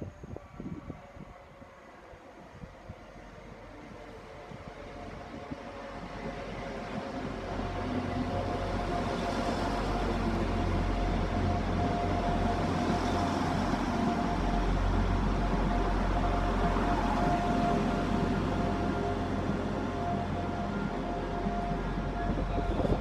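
An Arriva Trains Wales Class 175 diesel unit pulls into platform 1 at Rhyl station, its engine rumble and wheel noise swelling from faint to a steady, close drone over the length of the recording.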